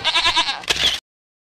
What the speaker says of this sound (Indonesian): ngapa ditaruh di dalam rumah gue nih kambing?